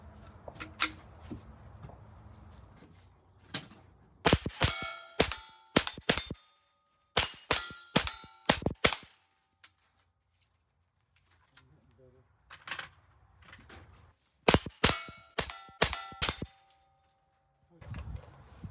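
Pistol fire at steel challenge targets with an 8 MOA red dot: rapid strings of sharp shots, each followed by a ringing metallic clang, in several bursts separated by quiet pauses, with brief talk at the start.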